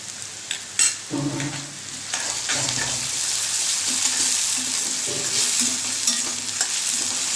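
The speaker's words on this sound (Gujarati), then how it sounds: "તો લસણ ડુંગળી સાથે સતળાય છે તો એની હારે આપણે આદુ મરચાંની પેસ્ટ પણ ઉમેરી દઈશું એ પણ સરસ સતળાઈ જાય" Onion, garlic and ginger-chili paste sauté in a pan for dal fry, a steady sizzle with repeated spoon scrapes and stirring knocks, close and continuous.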